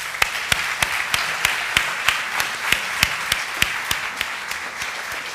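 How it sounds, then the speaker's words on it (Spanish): An audience applauds to welcome Júlio Machado Vaz at a Porto literary event on José Saramago: a sustained bed of clapping, with individual sharp claps standing out in an uneven rhythm. "Uma salva de palmas, por favor,"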